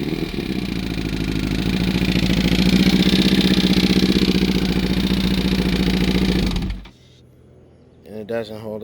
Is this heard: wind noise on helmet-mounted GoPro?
no